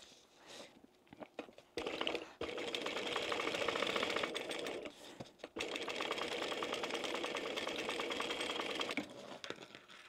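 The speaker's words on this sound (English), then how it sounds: "So now I'm going to just do some stitching around that. Decorative stitching, but also to hold that in place." A sewing machine hums in steady sustained runs, decorative stitching around a glittery fish-shaped zip pouch, with a brief pause between two long close passes.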